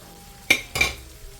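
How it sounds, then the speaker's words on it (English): Saltfish fries in a pot, with two quick scraping stirs of a utensil standing out over a faint background sizzle. "So I'm just gonna let this fry up for maybe about 2 minutes until I start seeing a little bit of a color change."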